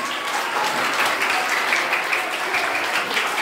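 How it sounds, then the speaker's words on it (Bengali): Loud, sustained applause fills a high school hall from start to end, a dense even roar of many hands clapping together without a break. "এটার জন্য একটা জোরে হাততালি হয়েছে, যত জোরে হাততালি"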